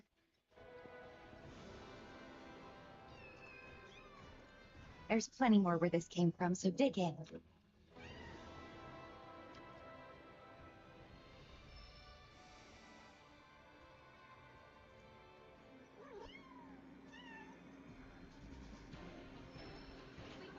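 In a video game, a cat named Fluffy gives a burst of loud, close meows while eating cat food, set against steady game ambience, with a character speaking before and after the meows.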